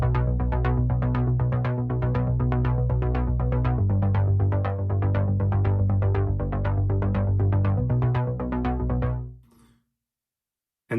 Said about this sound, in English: at the foundation level here, we have JX bass